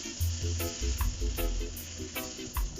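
Shrimp sizzling in a hot frying pan for a Filipino sautéed shrimp and mussel dish, a close, steady crackling fry with rhythmic stirring or scraping.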